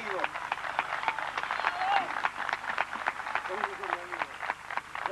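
An audience at a year-end party applauding, crisp scattered clapping continuing through the moment, with voices mixed in and a faint background hum.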